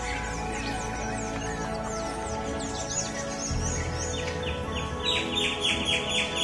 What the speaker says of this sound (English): In the mornings and evenings, on the tops of trees, birds sing.